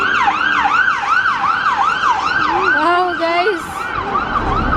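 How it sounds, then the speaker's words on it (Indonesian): A street ambulance siren wails loudly in a repeating rising-and-falling cycle as it passes close by, with a second tone briefly joining in and a short spoken remark partway through. "ada ambulans"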